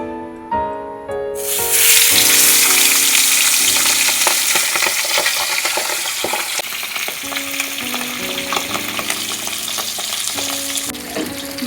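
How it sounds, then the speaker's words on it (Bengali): Pabda fish drop into hot oil in a pan, a sudden loud sizzle erupting after a quiet moment and settling into steady crackling frying with occasional utensil clinks. "এবারে মাছ দিয়ে দেবো"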